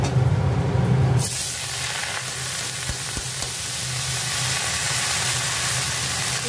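Mustard seeds and dried red chillies tipped from a bowl into hot oil burst into a loud, steady frying sizzle that stays close and keeps hissing without a break, with no voices over it.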